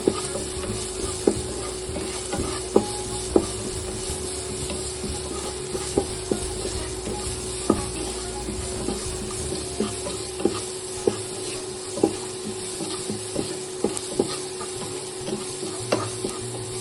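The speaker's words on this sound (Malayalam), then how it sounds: "ആ സവാള ഒന്ന് വഴറ്റിയതിന് ശേഷം" Onions sauté in a pan with a continuous close sizzle and crackle, and a spatula scrapes and taps the pan at irregular intervals throughout, with no voices.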